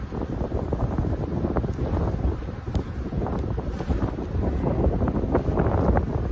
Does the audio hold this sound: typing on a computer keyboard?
no